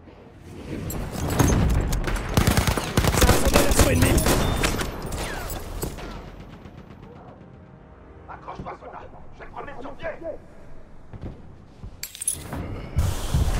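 Enemy machine gun fire in a war video game, dense rapid bursts that are loud at first, then thinner and more distant sporadic shots, with voices talking over the combat.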